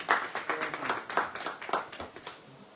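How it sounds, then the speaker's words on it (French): Applause from the audience at a live Paris press conference for a stage show, a modest group clapping in a steady patter of distinct claps that gradually thins out, close and fairly clear with no voices over it. "merci de les applaudir, s'il vous plaît."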